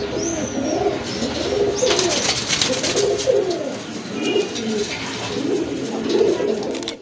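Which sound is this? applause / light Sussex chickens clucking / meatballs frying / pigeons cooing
pigeons cooing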